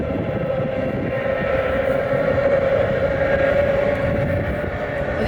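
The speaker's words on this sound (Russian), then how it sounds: "А вон едет поезд" An electric commuter train passing near Vladivostok, a steady droning rumble with a sustained whine, constant and moderately loud from start to finish.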